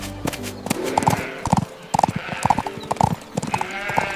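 Horse hooves clip-clop in a steady, even rhythm as a king's carriage rolls past, fairly close and clear, with no talk over it.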